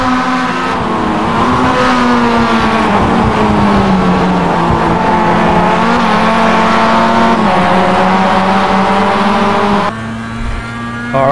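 A Mazda MX-5 race car at Imola in iRacing holds a loud, steady engine drone close up, its pitch shifting gently with throttle changes, then dips briefly near the end, with no talk.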